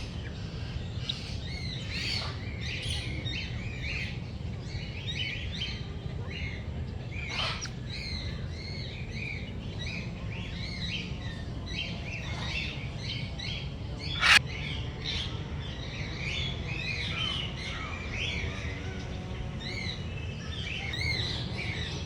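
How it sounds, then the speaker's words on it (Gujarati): Many rainbow lorikeets chirp and screech in a busy overlapping chorus over a constant low rumble, with one sharp louder squawk midway, at a nature park. "આ છે મેઘધનુષ પોપટ"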